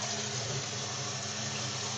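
Water runs from a tap on a boiler hot water system, a steady even rushing hiss at moderate level with no voices.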